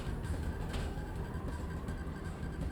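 A train driven in the Final Fantasy VII video game rumbles steadily at low volume, a continuous mechanical rolling with faint rhythmic clatter and no talk over it.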